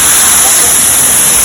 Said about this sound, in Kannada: ಜರಿ ಫಾಲ್ಸ್ ಹೆಂಗೈತಿ, ಅಲ್ಟಿಮೇಟ್ ವ್ಯೂ ಐತಿ.